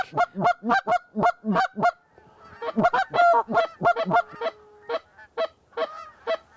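Geese honk repeatedly at close range as they flock in during a hunt, a loud flock calling in quick bursts that overlap, with a short lull before the honking resumes.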